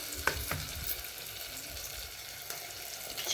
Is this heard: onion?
yes